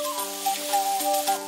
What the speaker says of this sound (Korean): 파파야를 잘게 채 썰어 각종 채소와 함께 볶아내는 오생오생 파파야입니다.